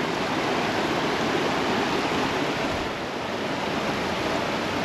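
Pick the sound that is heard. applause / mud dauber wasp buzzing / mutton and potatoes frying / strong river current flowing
strong river current flowing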